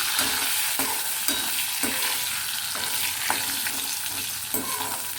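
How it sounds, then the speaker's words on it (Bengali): Potato pieces fry in a pan alongside taro, a dense continuous sizzle broken by regular scrapes and clacks of a spatula stirring, close and fairly loud, with no voices. "আলুটা একটুখানি লাল লাল করে ভাজা হলেই আমি নুন হলুদ মাখিয়ে নিয়েছি"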